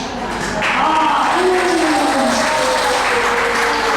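Audience applause at a lively neighborhood gathering in Uruguay, a steady wash of clapping that swells in after half a second and holds at full strength, with a few voices and whistles rising over it.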